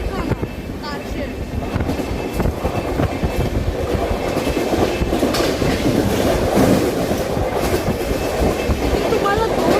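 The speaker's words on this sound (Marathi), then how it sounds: "अजून एक लोकल ट्रेनला आम्ही ओव्हरटेक करतोय." A Jan Shatabdi Express train overtaking a local train, a steady rumble and rhythmic clickety-clack of wheels on rails heard from inside the coach, loud and continuous throughout.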